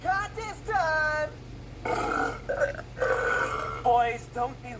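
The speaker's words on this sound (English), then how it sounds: "You call that a burp?" Cartoon characters trade loud, drawn-out belches in a burping contest, a string of deep, rumbling burps of varying pitch and length coming one after another, close and forceful.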